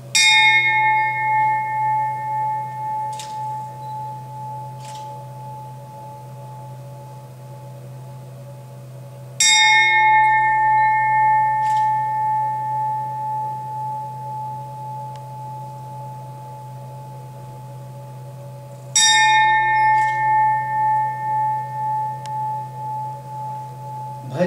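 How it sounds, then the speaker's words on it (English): A meditation bell is struck three times at even intervals, each strike ringing out clearly and fading into a long, shimmering resonance over a steady low hum. "just listen to the vibrations that this bell shall be producing"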